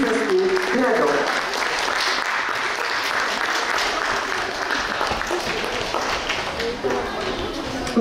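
Sustained, dense applause from the audience at a school nativity play showcase fills the whole stretch for a school group and its ensemble, holding at an even level with voices murmuring underneath.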